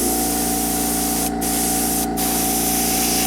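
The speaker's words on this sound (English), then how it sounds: "I'm prepared to go back in and repaint by hand some of the orange if I get some overspray in here" Steady hiss of an airbrush spraying orange paint onto a Space:1999 Swift model, a continuous close spray with two brief breaks in airflow and no talking.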